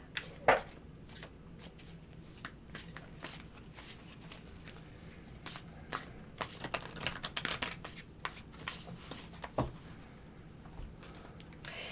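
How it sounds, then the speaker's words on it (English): Tarot cards being shuffled by hand in a quiet room, a run of soft papery riffles and light slaps in irregular bursts, close and fairly faint, with no talking. "Mr. O needs to shuffle the cards."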